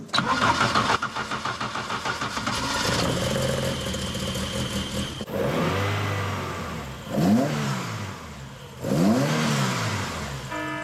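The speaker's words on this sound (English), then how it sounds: "the belt was making a load of noise just then" A car engine with an overtightened alternator belt and a non-charging alternator cranks and starts with rapid pulsing, then runs and revs several times, a rising whining squeal from the belt sweeping up with each rev.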